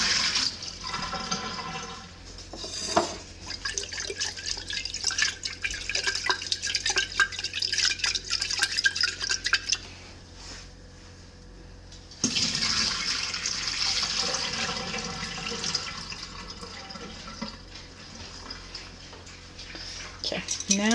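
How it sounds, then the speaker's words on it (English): Water splashes and drains as sprouting seeds are dumped and rinsed in a jar at home, running steadily for several seconds, pausing briefly, then pouring again in a close, continuous gush. "I'm gonna dump this and then I'm gonna rinse it."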